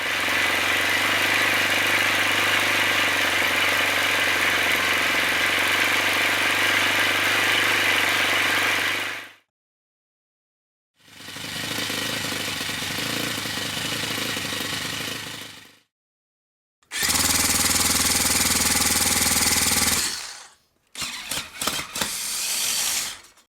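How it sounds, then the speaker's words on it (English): A model four-stroke internal combustion engine with worn main bearings runs loudly and close in several separate bursts, steady and rough with a knocking mechanical tone, broken by silent gaps, and the last burst is short and sputtering. "this is how the engine sounded before I changed the main bearings"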